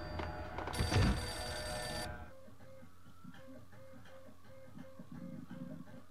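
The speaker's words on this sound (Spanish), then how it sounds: "teléfono" An electronic telephone bell in the video game Max Payne rings loudly for about a second and a half, then stops, leaving quiet ambient room tones.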